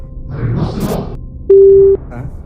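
A muffled rustle of handling noise gives way to a single loud, flat phone busy tone after a call is cut, lasting about half a second, then silence.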